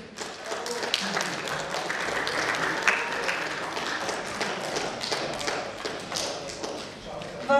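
A concert audience at a national flag and union celebration applauds the performers, a dense, sustained wash of clapping at moderate distance that holds steady and eases slightly toward the end.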